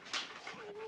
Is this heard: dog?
yes